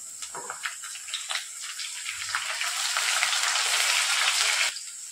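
Chillies, cumin, peanuts and curry leaves fry in hot oil for kurdai bhaji. The sizzle is sputtery at first, then swells into a bright, loud hiss that cuts off sharply near the end.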